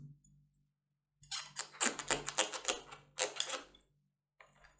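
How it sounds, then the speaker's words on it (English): A knife chops cauliflower into small pieces on a board, a rapid cluster of crisp cuts followed by a short pause and another burst, close and fairly soft against a quiet room. "We need to cut the cauliflower"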